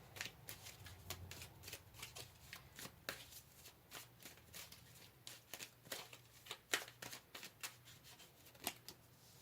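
Tarot cards shuffled and pulled from the deck in a rapid run of crisp, papery riffles and flicks, close and fairly quiet, with no talking.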